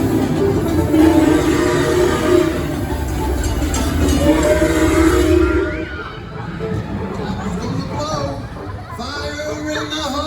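A roller coaster train rumbles along its track on the Fire In The Hole ride at Silver Dollar City, a loud continuous clatter under recorded voices and rider chatter that eases off partway through.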